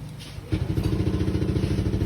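A motorcycle engine fitted with a racing ECU idles high after starting, a steady throbbing close by that sits loud and even and does not clearly drop within the short stretch.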